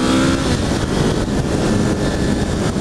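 Suzuki GS500 motorcycle engine pulling under acceleration, a close, steady buzzing drone with rising harmonics that stays loud throughout, no talking over it.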